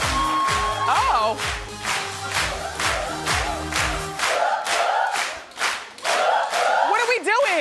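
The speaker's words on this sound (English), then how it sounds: "We're all clapping together" A daytime talk-show studio audience claps together in a steady unison rhythm, evenly spaced beats throughout, with music and raised voices beneath during the first half.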